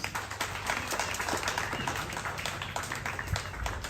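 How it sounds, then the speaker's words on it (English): A crowd applauds at an event for Northern Uganda film creatives, with brief, quiet, dense clapping that stays fairly even throughout. "let's give them a round of applause."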